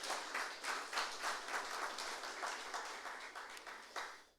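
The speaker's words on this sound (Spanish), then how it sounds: "Démosles palmas al Señor por eso," Church congregation clapping together in steady, dense applause, loud and sustained for several seconds before tapering off at the end, with no talking over it.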